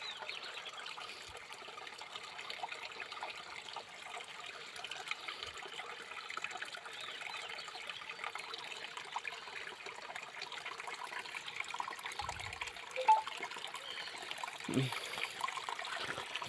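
Steady river water rushing and trickling at a village stream, a continuous even wash over the whole stretch with a few faint knocks.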